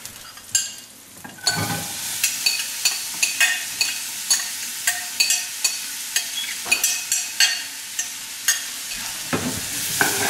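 Onions sizzle in hot oil with browned cumin seeds in a pan, a steady frying hiss punctuated by regular scraping strokes of a spoon as they are stirred.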